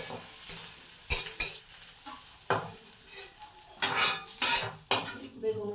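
Intermittent metallic scrapes and clinks of a utensil against a pan as fried neem leaves are scooped onto a plate, with a faint sizzle between strokes; no talking.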